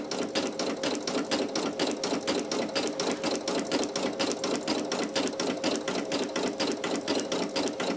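A Brother PE800 embroidery machine sews satin stitch onto a towel, with a rapid, even mechanical clatter of needle strokes running loud and steady throughout.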